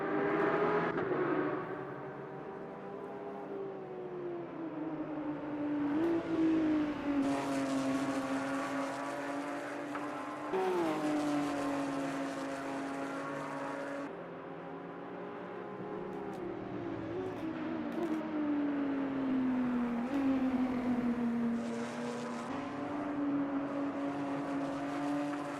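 GT3 race cars overtaking at Spa Francorchamps during a 2.5-hour race: a steady engine drone rising and falling in pitch as cars shift gears and pass, with several louder surges of nearby engines over a continuous background roar.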